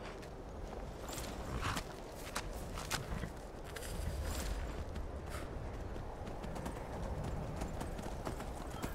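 Steady clip-clop of horse hooves walking in modded Skyrim, with a broadband game-like ambience underneath and a few sharp clicks; continuous and fairly close.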